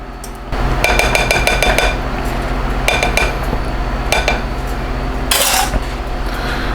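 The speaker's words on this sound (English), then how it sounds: "all we have to do is mix in this little bit of sauce that we made" A utensil stirs sauce into deviled sausages in a metal pan, making loud, rhythmic clinks and scrapes against the cookware in short bursts over steady background noise.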